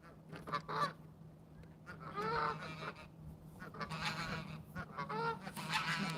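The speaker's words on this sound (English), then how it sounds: "You get to hear all the geese over here." Geese honk repeatedly near a fishing spot, a chorus of nasal calls coming in irregular clusters at moderate distance over a faint steady hum.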